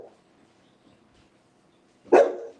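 A pet dog named Beans gives one loud, sharp bark near the end, close by, after a few seconds of near silence.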